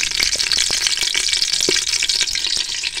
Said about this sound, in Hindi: घी शामिल करेंगे। पतीली को हमने चूल्हे पर चढ़ा दिया।